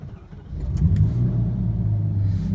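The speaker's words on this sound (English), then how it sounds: "Alright, this is how we start the Ferrari." A Ferrari 458 fitted with an Innotech performance exhaust fires up with a brief starter whir, then settles into a loud, deep, steady idle rumble, close by, with no talk.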